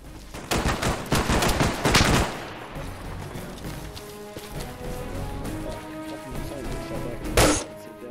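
Gunfire in ArmA 3 during a squad assault at Capraïa: a loud cluster of rapid shots and bursts early on, followed by a lower rumbling stretch and one more sharp crack near the end, with no speech.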